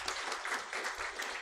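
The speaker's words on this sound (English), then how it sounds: "Can we have a round of applause for Ms. Bhatt?" Brief, fairly faint audience applause at a talk on preventing violence against migrant women, a short even patter of clapping with no voices over it.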